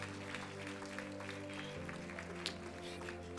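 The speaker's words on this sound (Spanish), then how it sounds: "Dale un aplauso al Padre." Applause from a church congregation during a worship service, a steady dense patter of clapping held at an even level beneath sustained music, with no clear break.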